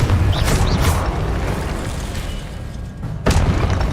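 Incendio and Confringo spell blasts in the Hogwarts Legacy video game: loud booming bursts with rumbling explosive impacts, a renewed blast near the end, dense and close with no voice over them.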